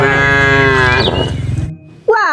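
A cow moos loudly and close, one long low drawn-out call, followed by a short rising second call after a brief pause; no talking.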